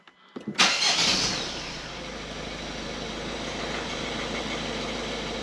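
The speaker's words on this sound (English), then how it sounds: "Let's start the engine and let it run for a few minutes" A Ford Focus Estate 1.5 TDCi diesel engine cranks briefly, catches loudly, then settles into a steady, close diesel idle that runs on evenly.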